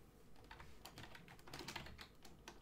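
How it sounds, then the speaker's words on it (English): Rapid, quiet clatter of keys on a computer keyboard, continuous and irregular, close but low in level, with no speech over it. "Can I quickly stop typing for a second there?"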